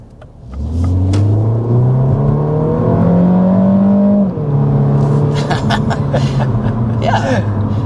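A 2025 Mini Cooper 4-Door's engine revs hard under acceleration through a 7-speed dual-clutch transmission, a loud rising drone with a quick dip at a gear change, then continuing with talk over it.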